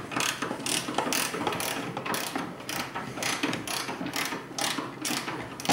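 Rapid ratcheting wrench clicking while turning a sway bar link nut on a Yamaha YXZ side-by-side, a dense, steady run of close, loud pawl clicks in short bursts with no talking.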